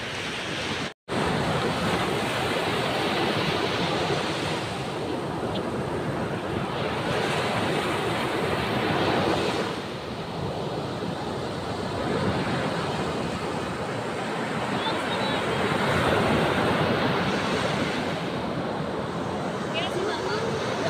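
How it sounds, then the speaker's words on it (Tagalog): Strong sea waves crash and surge continuously at a beach in La Union, a loud, wind-buffeted roar of surf close to the microphone with gusty rumble throughout. "malakas yung alon"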